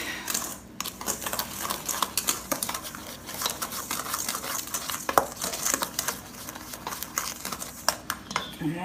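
A spoon clatters and scrapes rhythmically against a bowl while mixing brownie batter with sugar and cocoa powder, producing quick close taps and scrapes with no talking.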